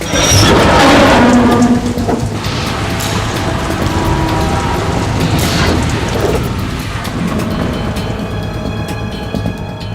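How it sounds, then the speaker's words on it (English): Dense, continuous rain hiss from the video game Metal Gear Solid 2 fills the scene at close range, with rumbling low swells and mechanical clatter mixed in, with no talk. "It stopped raining."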